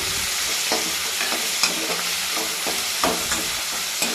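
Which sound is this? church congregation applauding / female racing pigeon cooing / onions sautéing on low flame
onions sautéing on low flame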